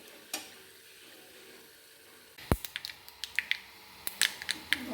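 Tadka of four red chillies crackling in hot oil, to be poured over dal khichdi: a low steady sizzle, then from midway a run of sharp pops and spits, close and fairly loud, with no voices.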